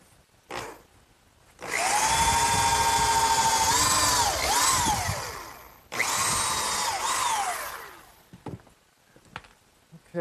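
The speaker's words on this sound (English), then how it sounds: "pre-drill some holes for the screws" A power drill pre-drills screw holes in pressure-treated lumber while a sandbox is built. Two loud, close, whining bursts rise and fall in pitch, separated by a short pause, with quieter knocks before and after.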